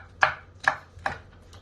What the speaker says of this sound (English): So I'm dicing these up small.